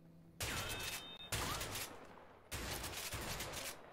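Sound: gunfire in video game A Way Out

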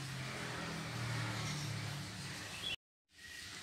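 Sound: blender blending young coconut meat and coconut water

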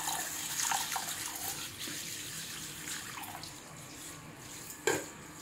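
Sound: washing masoor dal lentils in water

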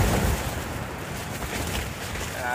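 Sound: strong wind gusts against tent

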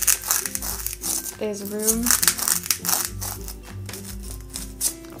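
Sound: scissors cutting a paper craft base

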